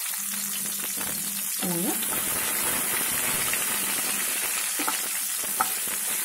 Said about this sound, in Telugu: ఒక చిన్న క్యాప్సికమ్ని ఇలాగ ఒక 10 నుండి 12 ముక్కల వరకు వేయించుకోండి.